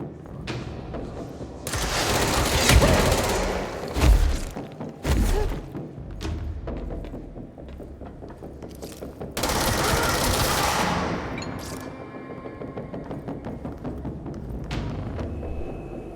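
Sustained automatic gunfire from a weapon in the video game Control, long loud bursts with heavy thumps, a pause, then another extended volley that trails off into quieter game ambience.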